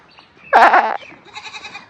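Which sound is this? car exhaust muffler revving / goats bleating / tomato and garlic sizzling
goats bleating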